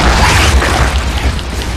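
Grenade explosions in a Gears video game roll out as a loud, dense, rumbling blast with low booming and debris-like crackle filling the whole moment.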